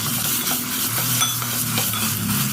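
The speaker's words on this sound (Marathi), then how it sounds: "छान सुगंध आणि तेल सुटेपर्यंत परतवून घेतले." Onion and coconut paste sautéing in hot oil for Maharashtrian katachi amti, a steady close sizzle with continuous stirring scrapes throughout, no voices.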